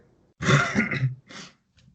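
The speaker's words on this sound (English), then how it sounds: "I just had to cough." A harsh, gravelly cough followed by a second shorter one, close and loud, then a faint breath.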